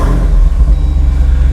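A Jeep Wrangler Rubicon 392 V8 revs loudly up close, a deep throbbing rumble with pulsing low-end roar over its short length.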